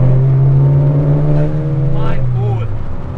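A 2021 Honda Civic Type R FK8 accelerating out of a corner, its engine droning loud and steady with a rising note, while someone talks over it.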